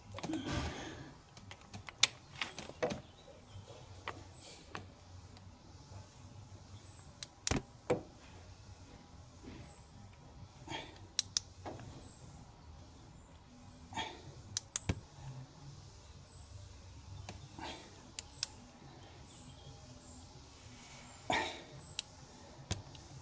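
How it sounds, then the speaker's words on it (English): A torque wrench tightening the new brake caliper bolts to 82 Nm on a Land Rover Defender 130 TD5: scattered sharp clicks and light ratcheting in a quiet workshop. "So we'll just torque them to 82 Newton meters"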